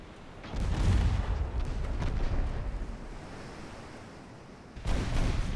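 Large-bore naval guns thunder in a Bismarck sea battle game: a heavy booming salvo swells and rolls on for several seconds, fades, then a second salvo bursts in near the end.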